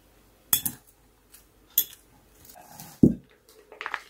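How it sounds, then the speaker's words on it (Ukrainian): A utensil mixing meat with onion in a bowl, giving a few scattered scraping clinks and soft squishy stirs with quiet pauses between them. "Змішуємо з цибулею"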